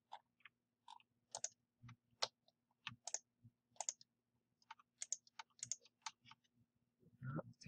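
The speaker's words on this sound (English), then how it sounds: "I think I clicked a little too many." A computer mouse clicks rapidly on websites, producing sharp, close, faint clicks in an irregular series with short pauses between bursts.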